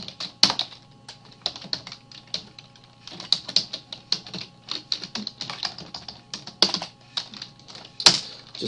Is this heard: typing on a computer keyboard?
yes